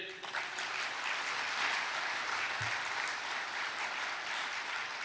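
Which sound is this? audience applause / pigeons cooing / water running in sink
audience applause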